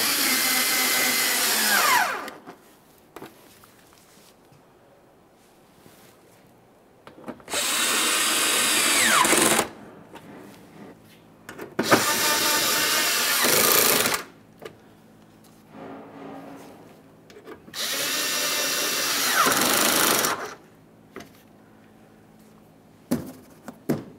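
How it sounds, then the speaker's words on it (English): A power tool snugging down bolts on a 2015-2020 Ford F-150 3.5L V6 during an exhaust camshaft position sensor replacement, running in four loud sustained whirring bursts separated by quiet pauses, close up with no talking. "All the bolts are started in, let's snug them up."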